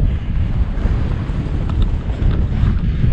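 Strong wind buffets the microphone on an exposed mountain walk at Tal y Fan in North Wales: a loud, constant low roar with gusty surges and no speech.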